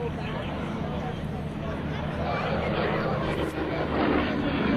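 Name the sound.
two Russian-built Yak aircraft flying in formation at an airshow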